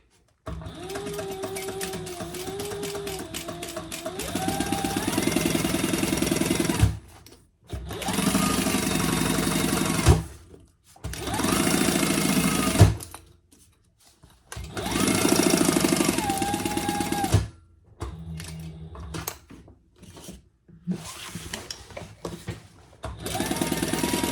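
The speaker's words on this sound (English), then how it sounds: "So we're going to sew down and around 1/2 inch." A sewing machine stitches a jumbo tote bag seam in several bursts of rapid, close mechanical whirring separated by short pauses.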